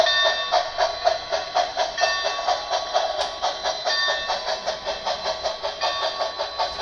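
A heavy HO scale model train rolling along track and across a bridge, with a rapid, even clicking rhythm over a steady metallic whir, moderately close and continuous.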